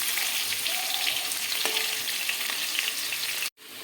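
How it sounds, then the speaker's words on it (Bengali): Potato pieces fry in hot oil for a Sunday mutton dish, a dense continuous sizzle close up with a faint stir, then a brief drop to near silence before the hiss resumes. "আলুটা লাল করে ভেজে নিয়েছি"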